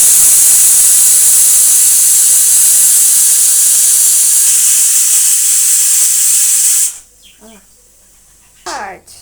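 A pressure cooker holding beetroot palya vents steam in a loud, steady hiss that runs unbroken for about seven seconds, then cuts off abruptly, leaving only a few faint brief sounds.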